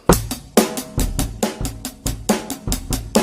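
A drum kit plays a steady, plain rock beat with regular kick, snare and cymbal hits, evenly paced but flat and unemphatic, played without energy.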